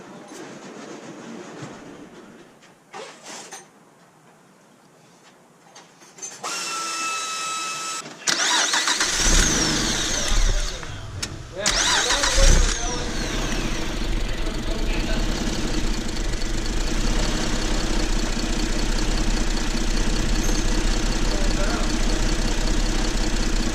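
A 2005 Acura MDX engine, just replaced, cranks and catches after a few quiet seconds, then settles into a loud, steady, slightly rough idle close by, with a brief voice heard early on.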